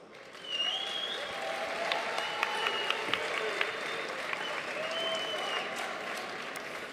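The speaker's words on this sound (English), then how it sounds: "Please give them a big round of applause." An audience at the YCS Milan 2018 final feature match applauds the two finalists, a sustained wash of clapping with scattered cheers and a few whistles that swells quickly and holds steady.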